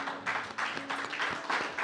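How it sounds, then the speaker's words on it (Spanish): A church congregation applauds during a service, with dense, overlapping clapping in uneven waves and a faint low hum underneath. "Denle un aplauso al Señor."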